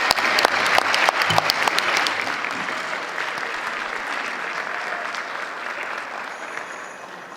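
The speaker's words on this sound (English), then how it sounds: "Can we have one more round of applause for everybody" Applause at a Board of Education meeting, with a room full of people clapping, sharp and dense at first, then slowly thinning and softening as the clapping winds down.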